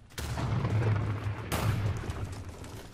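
Minecraft PVP event gunshots: two loud booming shots about 1.3 seconds apart, each with a rumbling tail that fades out.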